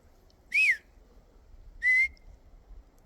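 A person outdoors at treeline gives two clear, loud whistles to call a mountain jay, each a short rising-then-level note about a second apart, with quiet in between.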